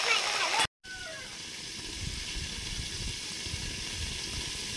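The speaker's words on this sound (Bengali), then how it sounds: "ঢেঁড়সগুলো প্রথমে ভেজে নিচ্ছি ভালো করে" Okra sizzles and hisses steadily as it fries in a pan in a home kitchen, a dense, even crackle that cuts out for a split second near the start and then carries on at a constant level.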